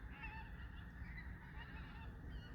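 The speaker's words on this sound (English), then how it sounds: "Listen to those birds." Geese honk outdoors on a countryside trail walk near Culross in Fife, Scotland, the calls coming steadily and fairly faint from a distance against a low background rumble.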